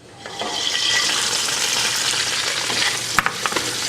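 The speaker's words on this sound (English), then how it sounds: "When the oil starts shimmering, we're going to put our onions in." Chopped onions drop into shimmering hot neutral oil for a Szechuan green bean stir fry, bursting into a loud, steady close-up sizzle, with a few sharp utensil clicks near the end.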